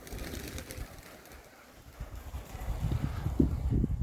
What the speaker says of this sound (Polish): to są gołębie